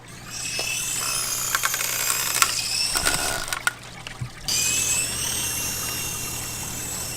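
Small toy helicopter rotor whirring while partly in water, a steady high buzz with splashy bursts and clicks, cutting out briefly and then resuming louder.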